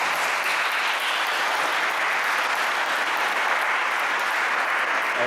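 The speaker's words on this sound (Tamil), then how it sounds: "அருந்தந்தையர்களுக்கு பாராட்டி கரகோஷங்கள் செய்வோம்." A congregation at a Mass in Wuppertal, Germany claps for the priests, steady dense applause filling the room throughout.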